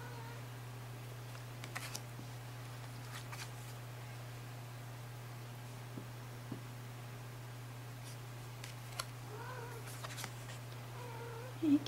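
A house cat meows quietly a few times, with faint rustling and a steady electrical hum underneath, and one clearer, closer meow near the end.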